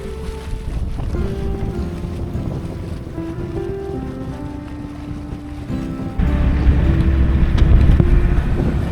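Runabout motorboats speed across open water in the North Channel, their engines whining at shifting pitches through wind noise before one grows louder and closer near the end.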